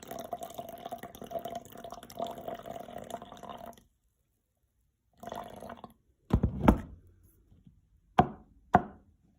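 Water is poured into a jug of yarn dye solution, producing a close, steady liquid trickle that stops, then briefly resumes, followed by a few sharp knocks and clunks.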